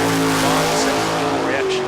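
A drag racing car, a Camaro, revs hard and launches off the line at a strip, its loud engine roar and tire noise rising under a commentator's talk.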